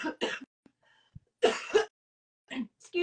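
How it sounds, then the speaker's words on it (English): A woman coughs and clears her throat in a few short, close bursts separated by quiet pauses. "Excuse me, I still have a cough."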